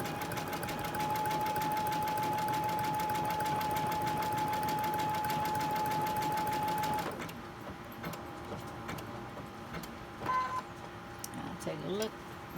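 A sewing machine stitches a pin tucked pinwheel quilt block, humming in a fast, steady run of needle strokes for about seven seconds before stopping, followed by quieter handling noises and someone talking.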